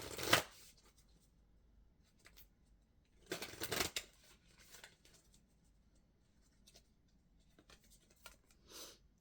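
Oracle cards are shuffled by hand in two brisk riffling bursts, with soft card rustles and light handling taps in between, close and quiet with no talking.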